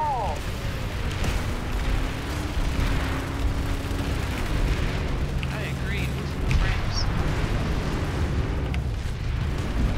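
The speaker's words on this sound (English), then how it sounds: "too many explosions." Rumbling booms and bursts of explosions in Planetside 2 roll on continuously, layered with game effects and a busy, noisy soundtrack.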